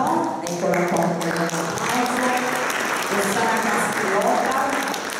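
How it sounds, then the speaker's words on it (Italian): An audience at a book presentation in Cosenza applauds the researchers with sustained, fairly loud clapping, while a voice speaks over the applause throughout. "gli facciamo un applauso"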